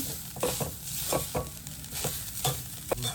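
Rava (semolina) is dry-roasted in a pan for an instant sweet snack, with repeated scraping stir strokes over a low steady sizzle, close and fairly quiet.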